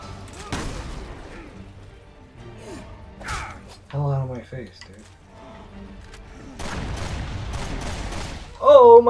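Gunfire from a gun in the video game Resident Evil Revelations 2, bursts of shots and crashes mixed with game effects and a voice, loud and close.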